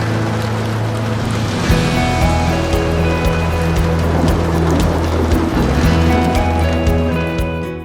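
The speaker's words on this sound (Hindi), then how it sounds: "Best thing that happened that it started raining." Rain falls steadily in the hills near Hillan Waterfall in Haveli, Azad Kashmir, a dense, loud patter with scattered sharper drops throughout, and no talking heard.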